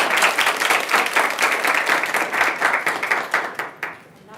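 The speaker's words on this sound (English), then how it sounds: "let's give her a round of applause." An audience at a university undergraduate biological sciences research symposium gives a steady round of applause. The dense clapping holds loud and even, then thins and fades near the end.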